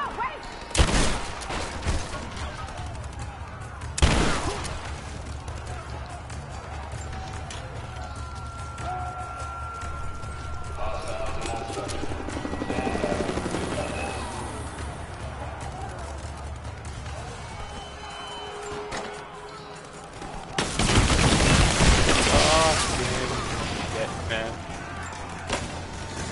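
Gunfire and shotgun blasts from the video game Rise of the Tomb Raider, with loud bursts near the start and a sustained heavy volley later, over game ambience and music.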